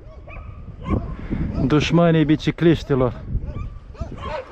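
Dogs kept at a Romanian railway (CFR) site bark and yip at passersby along a rough road, several close barks in a short burst with people talking over them.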